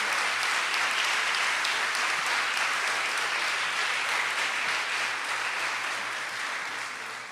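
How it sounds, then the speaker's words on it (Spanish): Sustained audience applause for an anniversary celebration at a Nicaraguan event, a dense, steady wash of clapping from a crowd that holds evenly and then slowly fades toward the end. "un aplauso para Carlos Fernando Chamorro y su equipo en este aniversario que celebramos"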